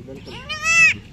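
A goat gives one short, close bleat with a rising, nasal quaver, standing out over faint background noise.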